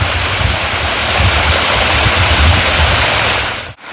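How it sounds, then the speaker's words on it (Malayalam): Fast-flowing water pours over a small waterfall beside a dam, a dense, steady roar that is loud and unbroken until it dips briefly near the end. "ഡാമിനെ തൊട്ടടുത്താണ് ഈ ഒരു ചെറിയ വെള്ളച്ചാട്ടം ഉള്ളത്"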